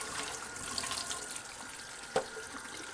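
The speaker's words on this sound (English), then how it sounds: "Fill the inside with water. Tip it over and kind of circle it around so you can get that water on the outside." Tap water runs steadily into a greasy cup at a kitchen sink, a continuous close splashing rush with one brief clink of the cup partway through.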